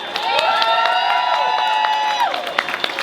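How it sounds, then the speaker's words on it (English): Public audience at a Vancouver Art Gallery speaking event clapping and cheering, with a sustained crowd roar, high whoops and scattered claps filling the room before fading. "Can I have a round of applause?"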